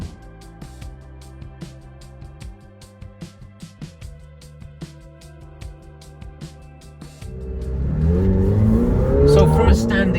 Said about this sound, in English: That V8 is a great sound and it's very responsive too.